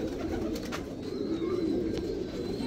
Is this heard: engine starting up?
no